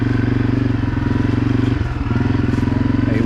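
A Honda CRF250F dirt bike engine runs steadily during a fall ride, a loud, close, throbbing single-cylinder drone with a brief dip in pitch partway through.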